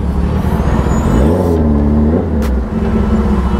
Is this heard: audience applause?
no